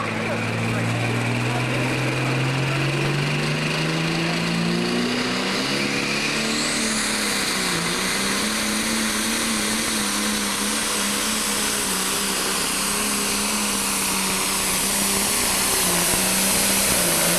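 Pulling tractor roaring loudly down the track at a 10,000 lb class tractor pull in Newton, Illinois, engine note climbing then holding at a sustained high howl, with an announcer's voice over it.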